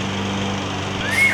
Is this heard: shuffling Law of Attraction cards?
no